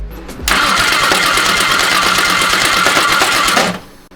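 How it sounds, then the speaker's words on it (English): A freshly built car engine with its oil pan removed cranks for about three seconds, making a loud, fast, rhythmic mechanical chatter that starts abruptly and then fades out. No one talks. "I'm gonna actually go ahead and crank it for 5 Mississippi"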